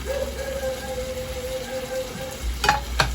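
Pork fat and meat for minudo sizzle steadily in a hot pan at close range, with a few sharp clatters near the end and no talk.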